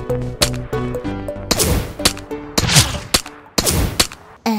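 Revolver shots in Peacekeeper Elite ring out as five or six loud, sharp cracks spaced about a second apart, each with a short echoing tail, over a faint tonal game hum.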